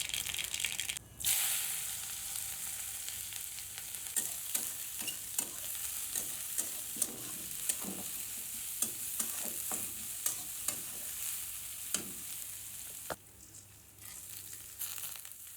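Chopped onion, garlic and red lentils fry together for a bhaji in a hot pan, with a continuous sizzle and repeated spoon scrapes and stirs, close and clear, without speech.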